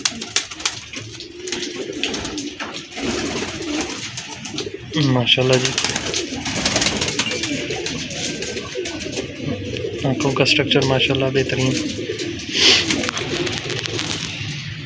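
A male highflyer pigeon coos softly and repeatedly nearby while someone talks over it.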